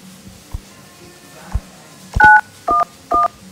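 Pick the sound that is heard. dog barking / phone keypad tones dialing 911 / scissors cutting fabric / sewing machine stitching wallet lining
phone keypad tones dialing 911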